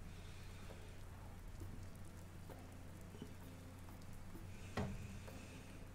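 Steady rain falls throughout the video game Dead in Vinland, a constant even hiss that stays under the scene with a brief louder burst near the end.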